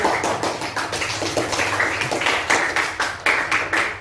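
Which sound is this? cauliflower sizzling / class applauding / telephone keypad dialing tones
class applauding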